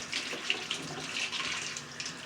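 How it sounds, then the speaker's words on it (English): Tap water runs steadily into a kitchen sink while a spoon is rinsed during Christmas chocolate chip cookie baking, a close, continuous hiss and splash with small clinks. "Now rinse this spoon off before I put it in my dishwater."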